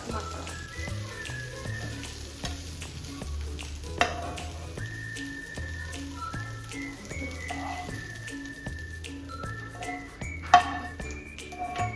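Spices frying in a pan, a quiet crackling sizzle with scattered sharp pops, under an intermittent low tonal hum and a couple of louder clatters.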